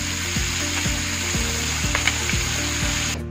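Small fish pieces fry in hot oil left over from frying eggs, giving a steady, close sizzle with no talk, overlaid by a regularly repeating low mechanical hum.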